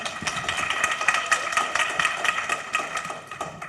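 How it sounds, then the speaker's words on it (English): A steady round of audience applause at a campus student-experience event, dense broadband clapping that holds at an even level throughout, with no talk over it. "So just a round of applause for them for making the trek."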